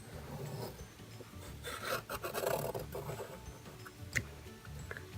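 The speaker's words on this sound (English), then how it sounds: "Then do another circle and overlap it onto the next one and draw around." A pencil scratches circles onto paper, a faint close rasping and rubbing that comes in uneven strokes over about five seconds, with no talking.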